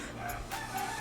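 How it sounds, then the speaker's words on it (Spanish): A rooster crows once, a short, fairly close call over steady low background noise, with nobody talking. "disculpen el gallo."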